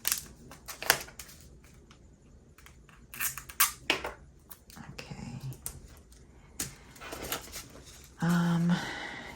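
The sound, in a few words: scissors cutting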